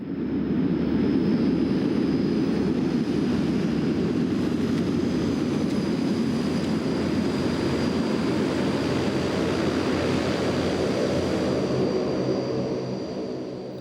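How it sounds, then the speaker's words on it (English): A Russian-built cargo plane landing at a jungle outpost, its propeller and engine roar loud, steady and close for the whole stretch, with no voices over it. "A Russian-built cargo plane puts down here every now and then with military and civilian supplies for this jungle outpost."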